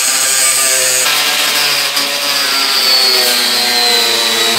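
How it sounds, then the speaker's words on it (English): An angle grinder cuts through a metal fastener in a Promaster van's subfloor, a loud continuous high-pitched whine with a grinding, rasping edge that holds steady for several seconds at close range. "You know things have gotten desperate when we bring out the angle grinder."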